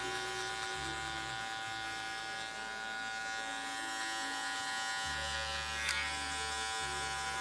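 Electric hair clippers buzz steadily while cutting a double zero fade on difficult straight hair, a close, continuous motor hum with slight shifts in pitch as the blade moves through the hair.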